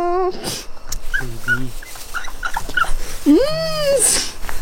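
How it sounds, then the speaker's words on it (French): Stray dogs on a dark street in Mexico at night whimper, yip and whine in a string of high, wavering cries close by, with faint voices around them. "Il y a des chiens errants là-bas, on les voit."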